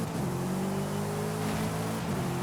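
Race car launching off the start line in Forza Horizon 5, a steady loud engine drone with sustained harmonic tones and slight rising revs throughout, no talk.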